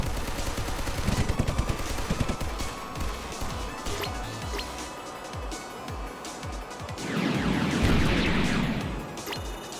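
Rapid bursts of automatic gunfire from the aerial combat game Sky Rogue, repeated sharp cracks in quick rhythm over a steady engine drone, swelling into a louder crash or explosion near the end.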